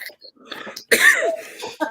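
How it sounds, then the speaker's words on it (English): A single harsh, close cough from a person with a bacterial infection, a short throaty burst following a bit of muffled talk, with a quick breathy sound after it. "We're all coughing."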